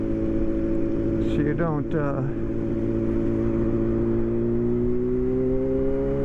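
A Yamaha R1 motorcycle engine hums loudly on wet, icy roads after a snowstorm, its pitch climbing steadily toward the end as it pulls in a higher gear, with someone briefly talking over it.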